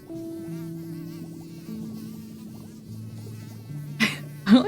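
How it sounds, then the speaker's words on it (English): An animated mosquito whines in a steady, close, nasal drone whose pitch shifts in steps, ending with a couple of sharp louder bursts. "we get to see the mosquito from over here"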